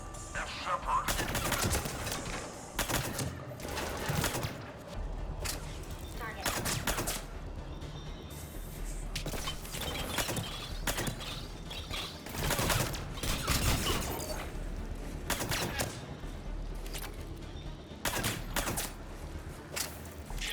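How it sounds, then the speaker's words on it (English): Video game battle in Mass Effect 3: bursts of rapid gunfire crackle repeatedly throughout, dense and loud, with scattered thuds and faint voices underneath. "Reports are coming in of gunfire"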